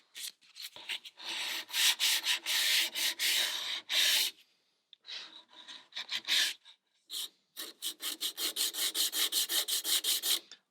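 A wooden half-hull model of a Catalina Wherry is sanded by hand with sandpaper, producing close, rhythmic scraping strokes in quick bursts separated by short pauses.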